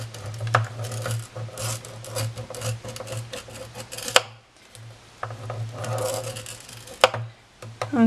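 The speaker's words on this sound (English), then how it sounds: "you need to go back and forward quite a few times, and that will just help you to get a really deep groove in the plastic sheeting" A blade scoring a deep groove into a plastic window sheet, pulled back and forth in repeated rasping, scratchy strokes with a brief pause midway. A faint steady hum runs underneath.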